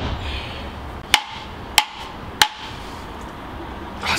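Three sharp, evenly spaced thwacks as a rolling pin strikes a coconut to crack it open, loud and close against a quiet background, with a softer knock at the end.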